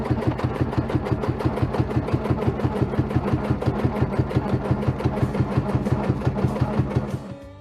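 A British Field Marshall tractor engine runs steadily and loudly up close, with a fast, even chugging beat that holds for several seconds and then cuts off near the end.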